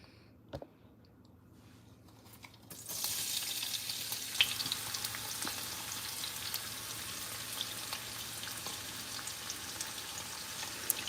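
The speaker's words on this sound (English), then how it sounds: "Let's start frying the eggs." Eggs frying in a pan while baking cupcakes and making sandwiches, starting with a short pause then a steady soft sizzle with faint crackles and pops that continues at moderate level without talk.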